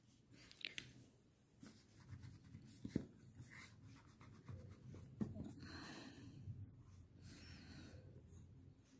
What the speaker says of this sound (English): In this way, you have to write cursive U.